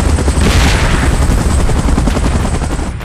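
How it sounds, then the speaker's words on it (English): A helicopter in the mobile battle game PUBG Mobile drones loudly and continuously, a dense, noisy roar with rapid rotor texture filling the whole stretch, no speech over it. "Chopper in position."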